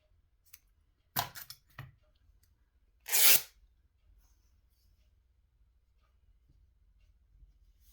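A strip of fabric is torn by hand in a quiet room, giving two short ripping bursts about two seconds apart, the second louder and longer, with near-silence in between and after.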